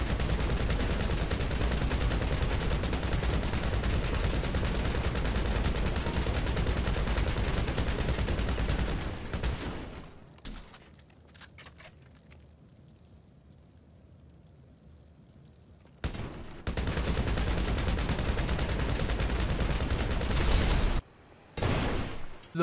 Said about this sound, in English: The Mark I Compact Rifle took 1 clip and 21 bullets for a total of 81 bullets.